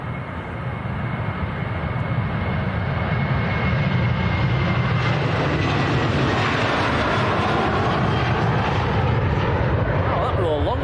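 A Jet2 airliner operated by ETF Airways taking off at Manchester Airport, its engines a loud, continuous broadband roar that builds and holds across the whole stretch, close to the listener.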